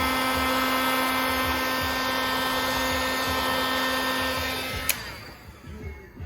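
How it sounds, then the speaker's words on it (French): A heat gun blows a steady, loud whirring hiss with a high whine while regenerating a scratched TFT screen protector on a 2022 Yamaha TMAX 560, then cuts off near the end, leaving quiet room noise. "on va le régénérer à l'aide d'un décapeur thermique"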